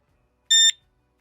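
A wireless burglar alarm's rear sounder gives one short, loud electronic beep while pairing with its hub, alone in a quiet room.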